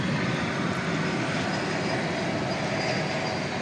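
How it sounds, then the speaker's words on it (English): A jet taking off from runway 18 left at DFW Airport at night, its broad, steady engine roar filling the whole clip at constant loudness without a clear rise or fade. "this plane is, fortunately for us, going out to runway 18 left. So we'll get to see it take off."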